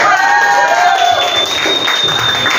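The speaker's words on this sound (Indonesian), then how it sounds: "Tepuk tangan kita semua." Children in a classroom applauding, brief loud clapping with crowd noise and voices overlapping, close and continuous.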